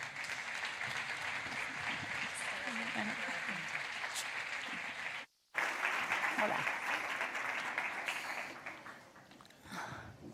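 An audience at a talk on women, family and liberty welcomes the speakers with sustained applause. It breaks off briefly midway, then resumes, and a voice greets the crowd near the end.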